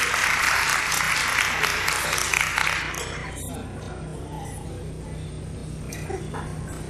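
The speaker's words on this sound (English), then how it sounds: "Let's give her a round of applause, okay?" Applause from the audience at an evening fundraiser for a ministry, a broad crackling wash over the first three seconds that thins to a low murmur of room noise.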